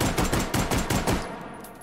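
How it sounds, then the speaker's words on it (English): Rapid fire from a stocked Mauser C96 pistol in the VR game H3VR, a fast run of about eight to ten sharp, loud, evenly spaced shots that stops abruptly and leaves a short fading tail, with no speech. "Let's do another recoil test, this time with a stock attached. 10 rounds, fast as I can."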